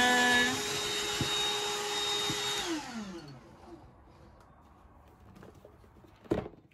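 A Black & Decker handheld vacuum whirs loudly nearby while picking up pet shedding, then shuts off and winds down in a falling whine, followed by quiet with a brief clatter near the end.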